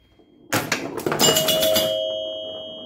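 A 1975 Gottlieb Atlantis pinball machine rings its 100-point chime: a loud bell-like strike, then several rapid mechanical clatters and a long, clear ringing tone that slowly decays, with no talking.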